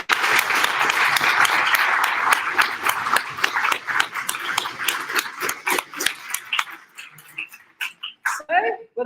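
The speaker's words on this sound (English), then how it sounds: "So I think we should just give another round of applause." A round of applause at a university mathematics competition awards ceremony, dense at first and then thinning into scattered claps near the end, with a voice heard briefly amid it.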